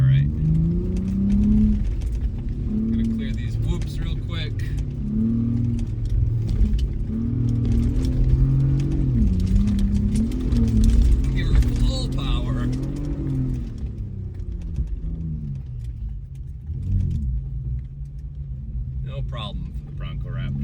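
Ford Bronco Raptor engine revving in bursts as it crosses sand dune whoops at Silver Lake Sand Dunes, a rumbling roar that surges and dips, with people talking over it.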